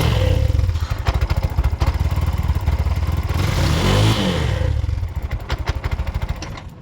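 A 2024 Bajaj BS6 motorcycle, with its timing chain in question, starts and idles with a rapid, close, clattering thump, briefly revving mid-way before settling back into a steady chugging beat.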